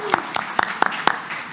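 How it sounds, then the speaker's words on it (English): An audience at a harm reduction summit applauds in a brief burst of sharp, evenly spaced claps, about five strong hits in under two seconds, close and fairly loud with no voices over them. "Round of applause."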